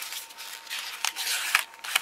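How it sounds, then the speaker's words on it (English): Someone cuts a part off the sprue of a 1:700 Aoshima Kongo plastic model kit. Faint rustling handling noise is broken by three sharp, quiet snips close by. "And let me cut this off."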